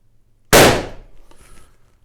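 A single sharp crack from an Umarex HDR 50 T4E CO2 revolver fired with its original valve, loud and close, followed by a short decaying tail and faint mechanical rattle.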